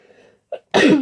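A single sharp, close sneeze bursts out at the end after a short intake of breath, loud and alone.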